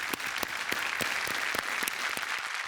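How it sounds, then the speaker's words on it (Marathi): An audience applauds for Vijay Chavan at a Marathi television comedy show: dense, steady clapping at constant volume that continues throughout, with no voices over it. "विजय चव्हाण यांच्यासाठी आपण एक जोरदार टाळ्या होईल"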